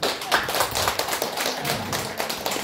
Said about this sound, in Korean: 축하를 박수 보내주세요.